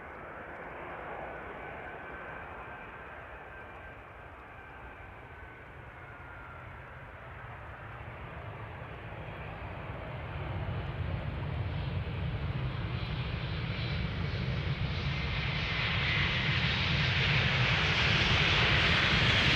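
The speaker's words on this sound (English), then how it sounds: "A typical KLM style landing." A 22-year-old KLM Boeing 777-200 airliner lands at Amsterdam Schiphol Airport, its broad jet engine roar swelling steadily louder over the clip as it nears and touches down, heard from outside without speech.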